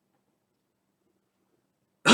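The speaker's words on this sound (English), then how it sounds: "I'm sorry for the coughing, I still have a slight cold" A single short cough or throat clearing from a man with a slight cold, close and fairly loud, bursting out at the very end after near silence.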